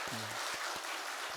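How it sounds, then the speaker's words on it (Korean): A church congregation at a Sunday worship service applauds the choir, a dense, steady wash of clapping that fills the whole short stretch, with faint voice fragments underneath. "한번 감사한 마음을 담아서 박수를 보내겠습니다"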